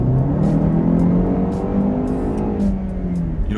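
A Jaguar E-Pace pulls away hard under full throttle from a slow crawl in drive, its engine note rising in a loud, steady sweep that climbs in pitch over a few seconds, close and continuous with no talking.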